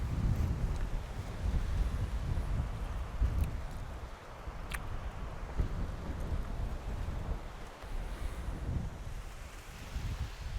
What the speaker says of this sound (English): that sound of the corn rustling and the wind blowing